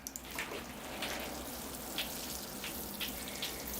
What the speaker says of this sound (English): I'll give the tree a rinse now